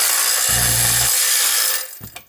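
A Raimondi Volpino E-FOX cordless tile vibrator briefly runs with a loud buzzing hum, stops, then gives a short second burst before falling quiet, over a steady background hiss.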